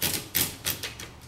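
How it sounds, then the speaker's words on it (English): An L.C. Smith & Corona Model 11 typewriter clacks through four or five crisp key strikes in quick, slightly uneven rhythm, close and clear with no talk. "This is a demonstration of the LC Smith & Corona typewriter."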